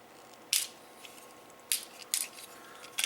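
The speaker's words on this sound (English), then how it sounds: "We'll fold down the legs." Plastic legs of a Transformers Scorponok toy fold down with several crisp, close snaps and clicks, separated by short quiet gaps.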